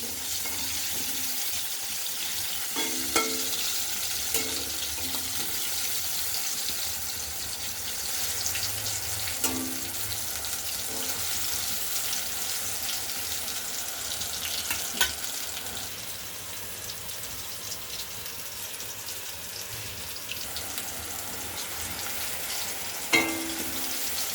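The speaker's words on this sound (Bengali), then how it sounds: "আলু ভাজা হয়ে গেছে, বেগুন ভাজছি।" A soft, continuous sizzle of eggplant frying in oil, with occasional light clinks and pops over a quiet kitchen background.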